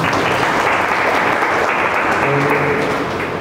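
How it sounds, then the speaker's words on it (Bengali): An audience at a Teachers' Day celebration claps for a teacher in a loud, dense, continuous burst of applause that holds steady throughout, with no talk over it. "তো প্রথমত তো এর জন্য জোরে হাততালি দিতে বলবো আমাদের"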